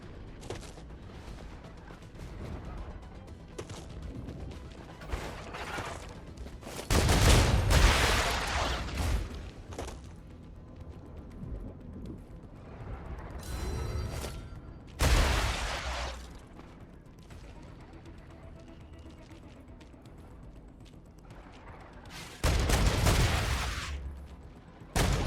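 Gunfire in the video game Star Rupture, with loud bursts of shooting several seconds apart over a quieter, steady game ambience.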